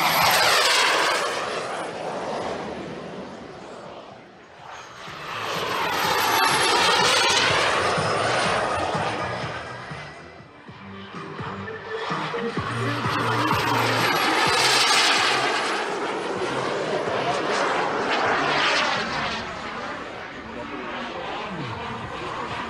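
Model aircraft fly at a model airshow, their engines swelling and fading in loud repeated passes that wash over the field.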